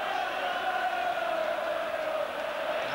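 A large football crowd at an FA Cup third-round match between Sunderland and Liverpool sends up a steady, sustained roar from the stands, heard at a distance without breaks.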